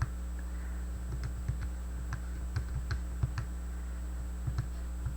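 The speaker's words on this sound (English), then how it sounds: "I highly suggest just typing it into your calculator just like that" An expression is keyed into a calculator as a string of quick, crisp button clicks in an uneven rhythm over a steady electrical hum, close and clear.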